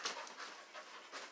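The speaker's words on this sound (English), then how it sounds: "Watch my dog." A dog pants softly in quick rhythmic breaths, close but faint, heard alone indoors.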